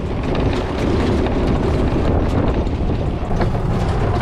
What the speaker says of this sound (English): The wind's probably pretty bad.